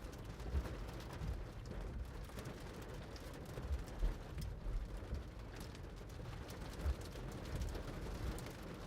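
Monsoon rain during a dust storm in the Phoenix area drums steadily on a car, a dense, constant patter with a few louder splashes, heard from inside the vehicle.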